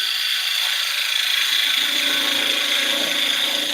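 Parting tool cutting into a spinning wood blank on a lathe while marking ring edges, a steady hissing scrape held at an even level throughout, close and continuous with no talk.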